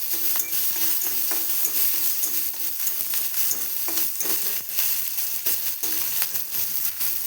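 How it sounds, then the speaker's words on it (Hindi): Crushed garlic and green chili fry in mustard oil with a steady crackling sizzle and repeated stirring scrapes against the pan. The sound is close and continuous, with no voices. "एबे जो रसुण कंचा लंका छेचा मु पकईदेली"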